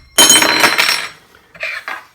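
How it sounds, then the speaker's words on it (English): A fist bangs down on a spoon that flips toward a glass, giving a sharp metallic clatter of cutlery on a table that rings briefly, followed by two lighter clinks. "you're going to just bang it like in a fist motion this way, hitting this spoon, which in a perfect world will flip the spoon to land in the glass"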